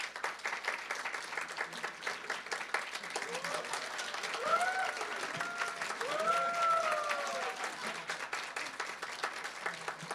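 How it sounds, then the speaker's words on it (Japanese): Audience applause welcoming Manager Miyamoto and Kaji onstage at a talk show, a fairly quiet, continuous patter of clapping with voices briefly rising over it midway. "大きな拍手でお迎えください。"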